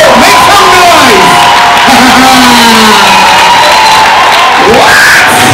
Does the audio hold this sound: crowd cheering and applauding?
yes